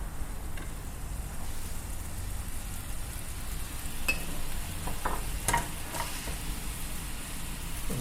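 Salmon fillet sears and sizzles steadily in a pan with ponzu sauce and lemon, a constant dense frying hiss with a few light clicks from stirring or utensils.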